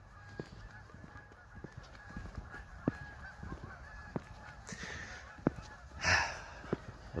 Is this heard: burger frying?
no